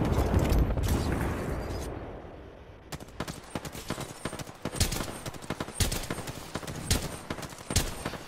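Rapid bursts of automatic gunfire in a video game, with dense repeated shots and sharp cracks crackling continuously over several seconds, the volume dipping briefly before the firing picks up again.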